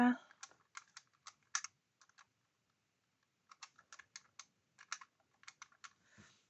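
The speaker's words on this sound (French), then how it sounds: "là je vais prendre la calculatrice, ça ira plus vite" Calculator keys pressed in two quick bursts of short, crisp clicks separated by a pause, close and fairly quiet, with no talking.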